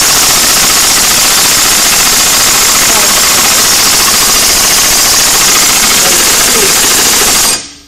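A two-stroke air-cooled engine with its exhaust fitted runs loud and close, a dense rapid buzzing rattle that holds steady for about seven seconds before cutting off abruptly.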